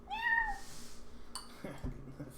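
A person imitates a cat with one short rising-and-falling meow, close and clear, followed by muffled handling noise and soft knocks.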